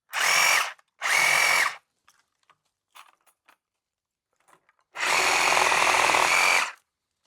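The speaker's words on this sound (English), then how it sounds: "But for the thick stuff, it cuts through real nice." A reciprocating saw fitted with a Japanese-tooth blade cuts through thick hardwood oak in three loud, close bursts: two short ones, a pause filled with faint clicks and rustles, then a longer cut.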